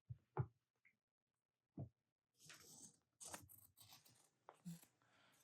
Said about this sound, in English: What we'll do is we'll cut it out.